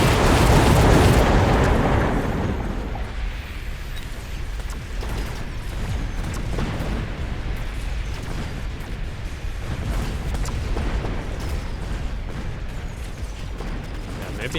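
Napalm strikes in a strategy video game erupt in a loud, broad burst of fiery explosion at the start, then settle into a sustained rumbling, crackling burn with scattered pops and no talking.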